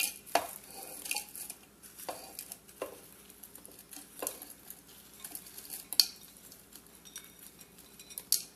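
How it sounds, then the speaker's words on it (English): Roasted herbs being stirred together in a bowl for a Thai sauce, with intermittent clinks and scrapes of a utensil against the dish, close and fairly quiet, no talking. "I'm gonna mix all my roast herbs, everything in here"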